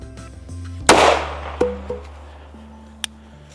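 A single sharp 9mm pistol shot fires a Speer Gold Dot round, loud and close, and its echo dies away quickly in near silence.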